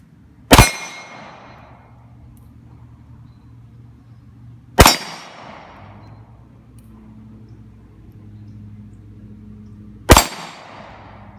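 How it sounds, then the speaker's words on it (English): A Springfield Armory XD-S .45 pistol fires three single shots spaced several seconds apart, each loud crack followed by the ringing clang of a struck steel target that fades before the next, with no talking. "Gonna shoot 6 rounds, try and hit all 6."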